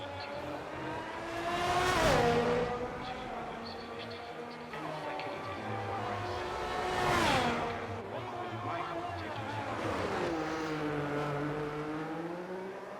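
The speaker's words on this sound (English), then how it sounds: "As we see the Ferrari pulling through to try and do his best." A Ferrari race car engine on an XLR sprint track in Canada, heard from a distance, rises and falls in pitch as it pulls through corners, with several swelling passes under steady background noise.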